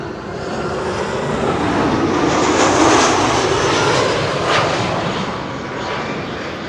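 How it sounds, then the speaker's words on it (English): An Iberia airliner arriving from Madrid at Schiphol roars steadily overhead, a loud broad jet rumble that swells toward the middle and eases slightly, with no talk. "Iberia arriving from Madrid in the meantime"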